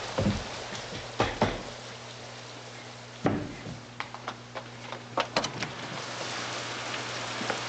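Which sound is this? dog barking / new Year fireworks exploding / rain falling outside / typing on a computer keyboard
rain falling outside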